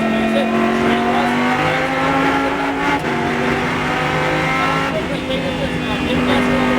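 Lamborghini Super Trofeo race car on a Las Vegas circuit, its engine holding a loud, steady high-revving drone with rising harmonics, heard up close from the cockpit while a man coaches over it.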